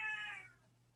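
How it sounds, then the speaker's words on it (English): A house cat gives one short, clear meow up close, which fades quickly into quiet room tone. "I have a noisy cat"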